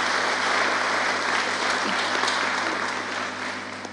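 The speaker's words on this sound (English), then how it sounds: "Kindly just give them a round of applause" An audience applauds steadily and fairly loudly throughout, honouring volunteers who stepped up during trying times, with the clapping thinning slightly toward the end.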